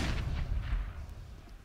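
A grenade explodes in a CS:GO match on the Cache map during an ESL One Cologne 2017 quarterfinal, a short, muffled, low boom that rumbles briefly and fades.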